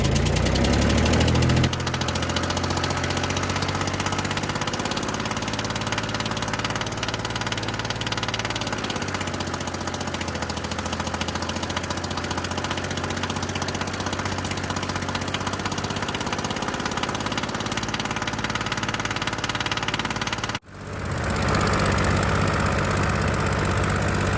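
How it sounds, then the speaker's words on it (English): A loud tractor engine with an exhaust leak idles roughly for a long stretch, its exhaust chugging, burping and sputtering steadily, before cutting abruptly to a different, quieter idle. "developed some kind of exhaust leak and it's burping up like crazy"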